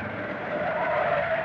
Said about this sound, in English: Don't ever jam your brakes on like that.